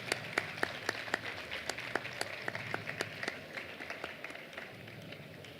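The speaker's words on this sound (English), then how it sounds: "Big applause for her. Aplauso para ella." Sparse audience applause at the Valencia Marathon 2024 international elite press conference, a scattering of distinct claps from a modest crowd in a room, fairly faint and slowly thinning out.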